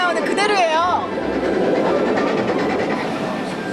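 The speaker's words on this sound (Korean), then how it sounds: "그 다리 위를 호그와트 마법학교로 가는 기차가 달린 건데요" A train crossing the Glenfinnan Viaduct in Scotland, heard as a steady rolling rumble and wheel clatter, opening with a short wavering tonal sound.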